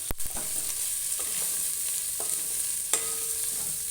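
Taro root pieces frying in oil in a pan with a steady sizzle, while a spoon scrapes and stirs a few times, with one sharp clink near the start, close up and without talk.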